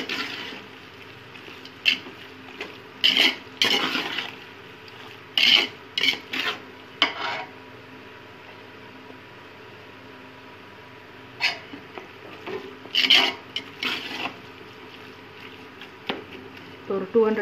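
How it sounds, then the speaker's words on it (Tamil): Mutton biryani with fresh mint is stirred in a pot. A spoon makes short, scraping strokes in irregular clusters, close and fairly distinct over a low background hum. "நல்லா மிக்ஸ் பண்ணிக்கோங்க."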